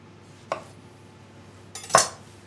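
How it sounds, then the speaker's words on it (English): A kitchen knife slicing tomatoes in half on a cutting board, two short distinct cuts about a second and a half apart, the second sharper and louder, in a quiet room. "Start with the tomatoes. Just cut them in half."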